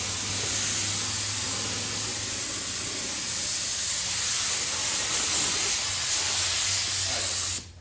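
A cheap HVLP spray gun sprays Rust-Oleum rusty metal primer, a loud, steady broadband hiss that runs almost without a break until it cuts off at the end, with a low hum underneath.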